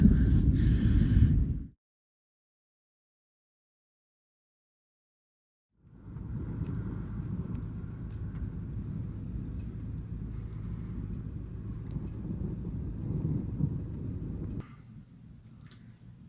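A low, steady rumble rolls on for several seconds after a brief burst and silence, thunder grumbling across the sky from a tornado-warned storm in July 2023.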